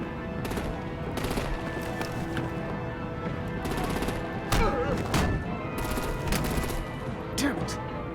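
Rapid machine-gun bursts and heavy gunfire crackle through a tense action scene in Batman: The Enemy Within, loud and sustained with sharp individual shots, while voices shout beneath the din.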